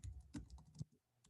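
Quiet, close keystrokes tap on a computer keyboard in a quick irregular burst, then slow to a couple of isolated clicks, with no talking.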